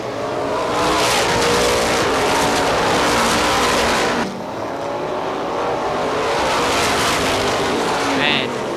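Race cars at Star Speedway, New Hampshire roar past in a loud, continuous engine drone that dips briefly midway and then builds again, with commentary running over it.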